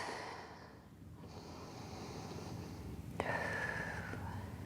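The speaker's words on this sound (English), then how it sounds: "One more big breath here." Slow, deep breathing during a relaxing Pilates stretch, a close, airy exhale drawn out over several seconds and followed by a sharper intake, with no talking.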